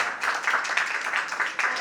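An audience claps to welcome a performer at an in-house talent show, giving a steady round of applause with many hands overlapping and slight surges throughout.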